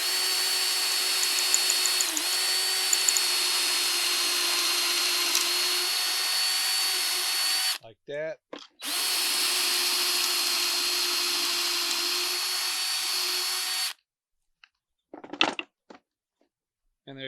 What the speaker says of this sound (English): You got the drill, got the bit they supply.